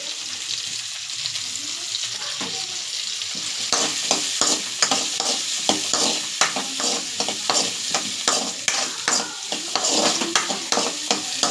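Onion, garlic and curry leaves sautéing in a little oil for a pasta dish: a soft sizzle at first, then rapid rhythmic scraping stirs against the pan over steady frying.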